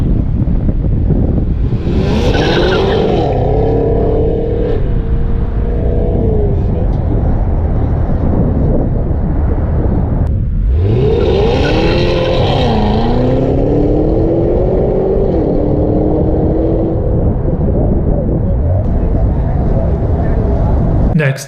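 Two supercharged Cadillac CTS-V V8 sedans making back-to-back full-throttle runs, each a loud, rising engine roar with audible gear changes, heavily buffeted by strong wind noise throughout.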